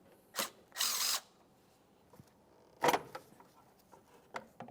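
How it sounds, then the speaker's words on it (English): A 10mm socket loosens a hose clamp on the intake housing of a 2008-2017 Mitsubishi Lancer, giving close, sharp ratcheting bursts and clicks separated by quiet gaps. "We can use a 10mm to loosen this, just enough that we can remove the housing from the inlet tube."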